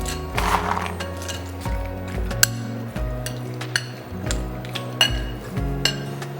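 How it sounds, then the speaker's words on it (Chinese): Roasted peanuts are stirred into a bowl of Sichuan-style diced chicken with sesame seeds, the spoon clinking sharply and rhythmically against the bowl. The tapping and scraping is close and clear, with no talk. "拌入熟花生"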